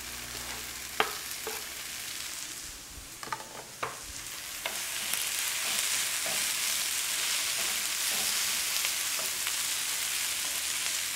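Garlic dropped into a pan of sizzling onions, a few sharp clinks and taps at first, then a steady, even frying hiss close up with no speech.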